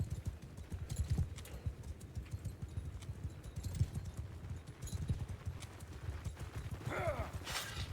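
Horse archers' hooves in Mount & Blade II: Bannerlord, a dense continuous clip-clop of many horses galloping together, steady and fairly loud with a faint whinny near the end.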